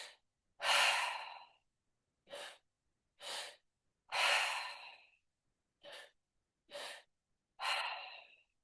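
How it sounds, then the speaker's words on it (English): Slow, deep breathwork breathing, with long, loud, airy inhales and exhales alternating with shorter breaths and separated by silent pauses, close and clear with no talking. "slower but deeper breathing."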